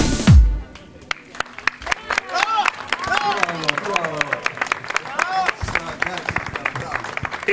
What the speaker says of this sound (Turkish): İhsan Bey, alkışlar gelsin